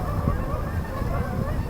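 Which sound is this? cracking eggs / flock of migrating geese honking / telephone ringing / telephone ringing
flock of migrating geese honking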